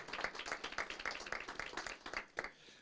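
A city council meeting audience claps for a police deputy and team: a quiet, fairly even run of handclaps for nearly three seconds that fades at the end.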